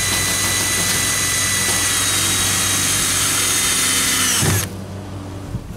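A power drill drives a deck screw with a washer through wire mesh on a stone mailbox build, a loud, steady high-pitched whine that runs for several seconds, then stops abruptly.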